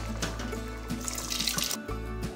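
Lentil cooking water pours and splashes steadily into a pot over a low constant hum, with a brief dip near the end.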